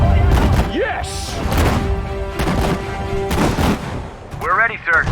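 Gunfire crackles and thumps in the World War II strategy game Sudden Strike 4, with repeated sharp shots and heavier thuds under shouted soldier voices.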